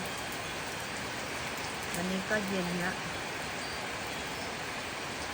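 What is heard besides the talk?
rain falling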